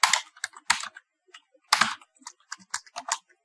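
Fingers type on a computer keyboard, close and clear: rapid bursts of clacking keystrokes with a short pause in the middle.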